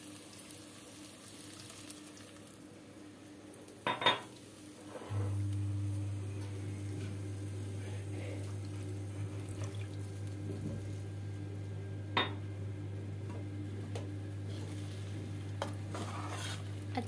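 Banana halwa being stirred in a pan, a steady soft scraping and sizzling with a few brief louder clinks, continuous and close with no voices.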